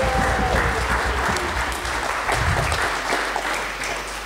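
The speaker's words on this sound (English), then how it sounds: "Big round of applause, everyone." A festival crowd claps in a loud, steady round of applause for about four seconds, gradually easing off toward the end.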